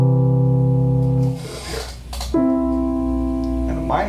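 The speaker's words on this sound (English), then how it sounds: "the major third sounds like this." Sustained keyboard notes sound together as a major third, held steadily, then fading and giving way to a second held chord with a softer tail.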